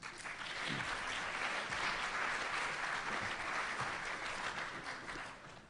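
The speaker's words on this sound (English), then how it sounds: "So give everybody a big round of applause." An audience at a resident leadership forum panel gives a round of applause, steady dense clapping throughout, fairly distant and moderately quiet.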